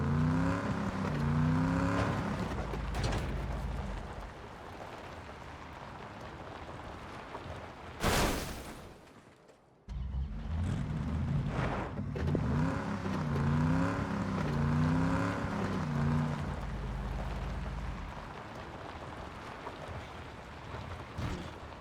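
A continuous, glitchy airplane engine drone in PUBG with a wavering, looping pitch runs throughout, cutting out abruptly for a couple of seconds before resuming at similar loudness.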